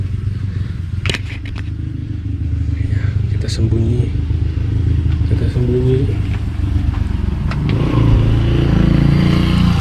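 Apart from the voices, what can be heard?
motorcycle passing by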